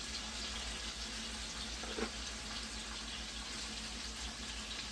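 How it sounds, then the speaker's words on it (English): A constant broadband hiss and crackle of chicken pan frying in a hot pan, steady and fairly quiet, with no talking. "So all I'm doing right now, I'm just pan frying it."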